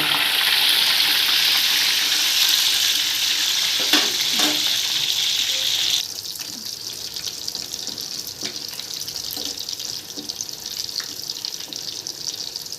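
Bubble prawns deep-fry a second time in hot oil, a loud, dense crackling sizzle for the first six seconds, then settling into a quieter steady bubbling with occasional utensil clinks.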